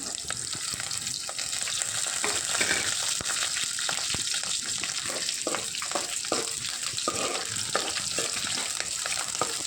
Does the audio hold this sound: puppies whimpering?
no